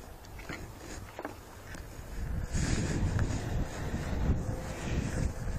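Strong wind buffets an outdoor microphone with a steady, rough low roar that swells louder and denser after the first couple of seconds, with no talk, at a radio-controlled model outing.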